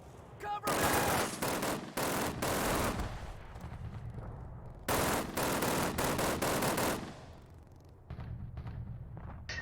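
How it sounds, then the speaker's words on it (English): Rapid bursts of MG42 machine gun fire in the Call of Duty video game, loud and close, with sustained automatic volleys broken by short pauses, mixed with other game gunfire and sounds. "the MG42 is a beast in this game. It just freaking blinds you when you fire it"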